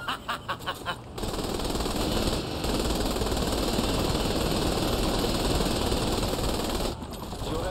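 Attack helicopter boss in Saints Row The Third Remastered, a few rapid bursts of gunfire opening into a loud, sustained roar of rotor and continuous machine-gun fire that briefly cuts out before resuming.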